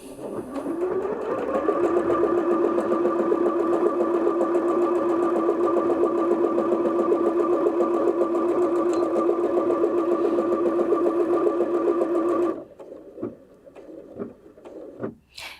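A Bernette B38 sewing machine runs steadily for about twelve seconds stitching a decorative tulip pattern, a fast even mechanical whir, then stops abruptly, leaving a few faint clicks and handling noises.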